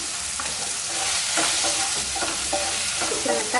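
Onion and tomato sautéing in a pan for a Chettinad prawn curry, a loud continuous sizzle with repeated scraping stir strokes, close up and without talk.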